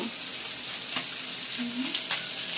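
Surma fish and potatoes fry together in a pan with a steady, close hiss and sizzle, broken by occasional stirring scrapes, with no voices.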